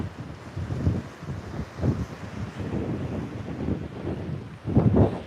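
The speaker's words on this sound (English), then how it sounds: "It's windy and it's blowing water all over me." Gusty wind buffets the microphone on a coastal clifftop, with spray blowing about; loud rumbling bursts rise and fall irregularly, close and unbroken, with no talk.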